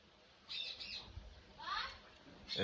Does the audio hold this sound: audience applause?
no